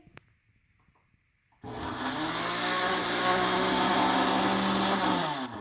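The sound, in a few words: blender blending spinach paste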